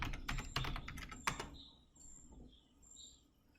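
Fingers type a username and password on a computer keyboard, a brief close flurry of clicky keystrokes over about a second and a half, then quiet with faint chirping in the background.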